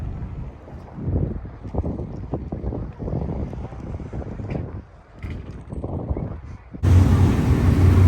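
Boat cruise for whale watching on a wide river gulf in eastern Canada, with steady wind buffeting the microphone and a low hull and water rumble; a burst of heavier wind noise near the end. Faint voices may be present underneath.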